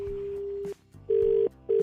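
An electronic phone ring tone sounds, a steady tone that breaks off and then repeats in two shorter bursts.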